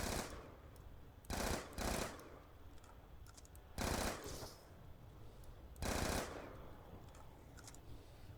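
Bursts of assault rifle tap firing in a Zombies video game, loud short volleys of a few rounds each, spaced a second or two apart over steady game background noise.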